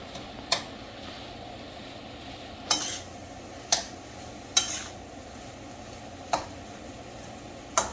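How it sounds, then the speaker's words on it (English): A spatula repeatedly scrapes through masala dosa potato filling in a pan, sharp clicks at irregular intervals of a second or so over a faint, steady low sizzle. "Stir it well because you want everything to be mixed nicely."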